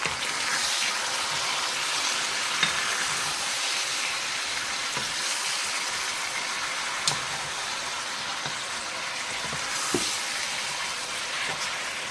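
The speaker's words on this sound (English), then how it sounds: "now I'm going to add my beef to the mixture" Chuck steak for Asian-style tacos fries in a pan with a steady, broadband sizzle and hiss that holds at an even level throughout, broken by a few faint clicks.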